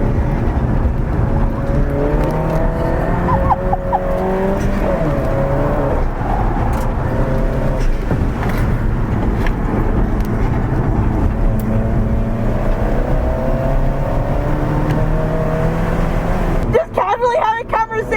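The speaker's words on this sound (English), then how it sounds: "Doing like 80 miles an hour in the corner, no big deal." Loud, sustained engine drone and rising revs from a car taking a corner at around 80 mph, heard from inside, with the roar running steadily throughout and a sudden change near the end; voices talk over it.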